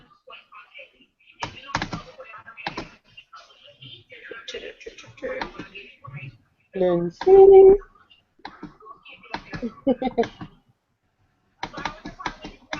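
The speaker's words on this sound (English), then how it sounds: "you sound like you're attacking that keyboard" Rapid clicking taps from a computer keyboard being typed on hard during an online book-review call, bursts of keystrokes sounding close between and under stretches of conversation.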